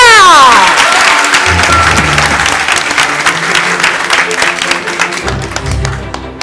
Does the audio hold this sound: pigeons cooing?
no